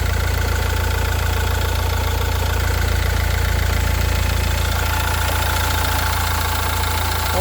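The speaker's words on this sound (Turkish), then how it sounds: "Bu motorumuz yeni toplanmış." A newly rebuilt car engine idles steadily nearby, a loud, continuous low rumble with a faint knocking texture and no voices.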